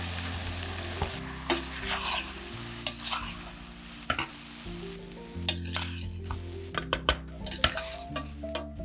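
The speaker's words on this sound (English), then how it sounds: "Now add soaked rice" Soaked rice tipped into a pot of fried potatoes for pumpkin pulao, with a spoon stirring, scraping and clinking against the pot over a soft sizzle, in irregular bursts of close, moderate sound and no talk.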